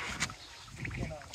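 A rowing boat moves through floodwater with a brief close splash and a soft oar knock, while people talk nearby.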